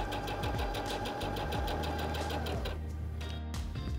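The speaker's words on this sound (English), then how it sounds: "I'm going to lower the presser foot lifter and step on the foot control to sew." Heavy Duty 6800C sewing machine running a long straight stitch, a fast steady mechanical whir and clatter close up, stopping near the end.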